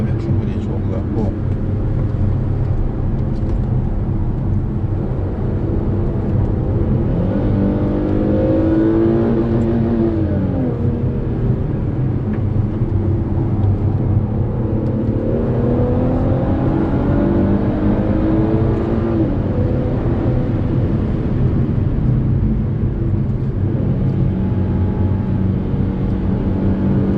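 Deep, steady engine drone of a 400-horsepower Infiniti Q60S coupe on the road, with brief rising and falling revs blipping up during downshifts, heard from inside the cabin with someone talking over it.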